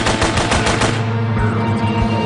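Rapid bursts of gunfire during a combat training exercise, loud and close, in a quick repeated rhythm that thins into scattered shots over a steady background rumble.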